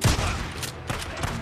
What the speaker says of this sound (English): let me just shoot these guys